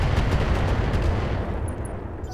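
Mech weapons fire at a target in Roguetech, a dense, rumbling volley of repeated blasts that merges into a continuous loud roar and slowly fades, with faint high chimes of interface sounds near the end.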